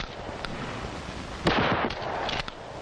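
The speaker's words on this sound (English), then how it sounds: "Hip firing is used at close range, where most confrontations do occur." Shotgun fired from the hip at close range in a law-enforcement training setting: one sharp, loud blast that cuts through a noisy background, with fainter cracks before and after it and no speech.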